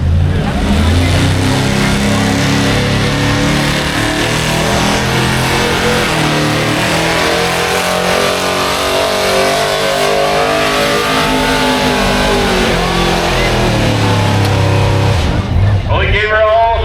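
Stock diesel truck at a county fair truck pull, the engine roaring loud and sustained as it revs and strains under load, pitch shifting for many seconds before easing off.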